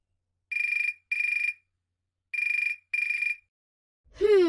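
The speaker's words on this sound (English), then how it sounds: "Lucy's mobile phone is ringing." A mobile phone rings with two pairs of bright electronic trill bursts separated by a short pause, clear and close in an otherwise quiet setting, followed by the start of a rising voice at the end.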